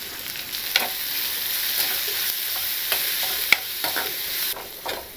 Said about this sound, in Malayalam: ഉള്ളി നന്നായിട്ട് വഴന്ന് വന്നിട്ടുണ്ട്.